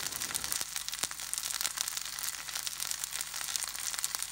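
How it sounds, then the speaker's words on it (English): Cauliflower gnocchi searing in a fry pan give off a steady, dense sizzle, a constant crackling hiss with a few sharper pops, close and even throughout with no talking. "They sound so good. Listen to that sizzle."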